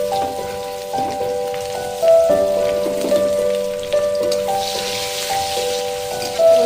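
A dense, crackling sizzle of chopped onions frying in hot oil previously used for frying fish runs steadily, with soft tonal music playing in the background.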